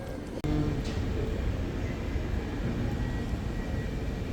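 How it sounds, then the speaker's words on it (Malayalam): An airplane at an airport gives a low, broad, continuous engine roar, steady and moderately distant from start to finish, with a brief knock near the beginning. "ഫ്ലൈറ്റ് ഇതാ പോണ്."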